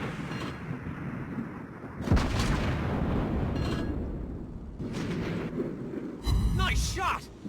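Naval gunfire from the cruiser USS Cleveland in the game World of Warships Blitz, several heavy booming salvos with sharp onsets and rolling decays spread across the clip, loud against a steady engine-like background rumble.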